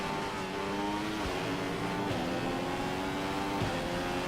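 An F1 race car in F1 2015 at the Bahrain Grand Prix holds a loud, steady high-rev whine, with quick upshifts that briefly drop the pitch before it climbs again, and no voices.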